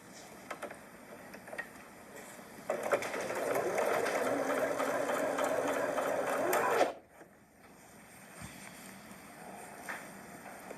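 A Janome sewing machine runs a steady, even stitching whir for about four seconds while joining patchwork pieces, then stops abruptly. Quieter handling noise follows and no one speaks.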